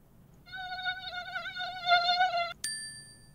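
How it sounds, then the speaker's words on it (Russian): A mosquito whines in flight, a thin steady high-pitched buzz for about two seconds that wavers slightly, then cuts off with a short bright ding, with no voices. "Умница, покажи комарика. Он летает."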